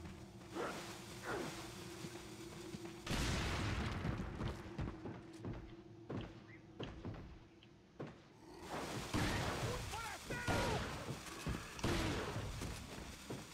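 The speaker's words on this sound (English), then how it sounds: "I guess we should use the shotgun, or at least before we sell it" A shotgun in Resident Evil 4 fires several heavy, spaced blasts with clattering handling noises between them, over a steady game background hum.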